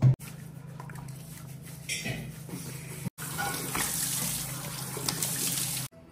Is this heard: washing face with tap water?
yes